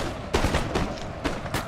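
Musket volleys in Napoleon Total War during a city fight, several sharp ragged cracks of gunfire over a rumbling battle background, spaced irregularly and fairly loud.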